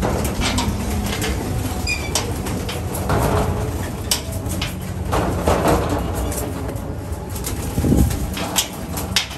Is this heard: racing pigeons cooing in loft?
yes